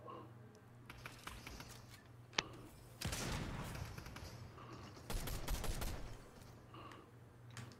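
Rapid bursts of automatic gunfire as players shoot bots in a video game, two louder volleys of rattling shots over a low background hum with scattered clicks, no talking.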